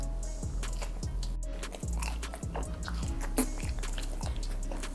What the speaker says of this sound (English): Let's try some of the chips first.